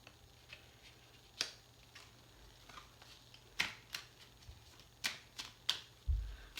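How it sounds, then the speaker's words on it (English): Small tarot cards are shuffled in soft, irregular riffles and taps, quiet and close, with a light thump near the end. "It's a little bit difficult to shuffle these smaller cards."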